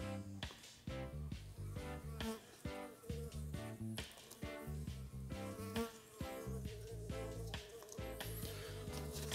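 A swarm of uruçu nordestina stingless bees buzzes loudly and continuously up close, a dense, steady drone with layered pitches and constant fluttering pulses.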